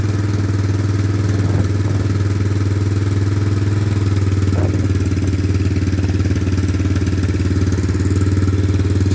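A farm bike with a centrifugal clutch sits idling after an electric start while it warms up, making a steady, loud, even engine hum with faint mechanical clatter.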